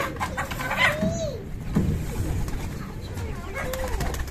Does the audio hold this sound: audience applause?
no